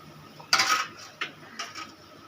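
Coconut, black pepper, curry leaves and onion tossed into a pan for sautéing, giving a few short clattering, scraping bursts of metal and ingredients, fairly close and moderately quiet, with no talking.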